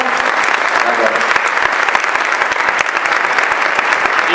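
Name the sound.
applause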